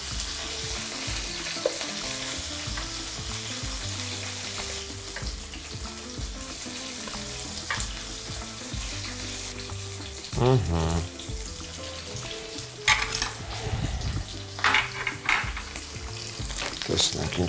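Okra sizzles and spits in a frying pan during home cooking, a steady frying hiss with occasional stirring clatter and louder bursts near the end, over a continuous tonal background.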